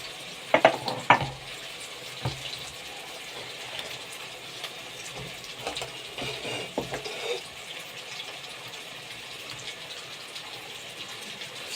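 Okra and onion stirred together in a frying pan, with a few sharp scraping clatters early on and a low, steady sizzle underneath, the clatter fading into quieter stirring.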